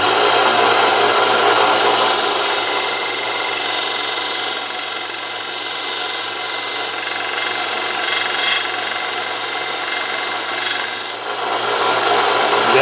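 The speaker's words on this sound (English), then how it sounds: "I've got a belt sander, but you'll have to sharpen it a little bit to put an edge on it to make it look realistic." A belt sander grinds an edge onto a metal blade for a homemade Freddy Krueger glove, a loud continuous close abrasive whir with steady rasping that dips briefly near the end, no voices.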